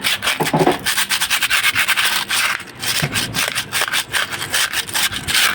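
Steady rhythmic scraping and rubbing of sandpaper worked back and forth during a rice cooker repair, close up and continuous with no talking.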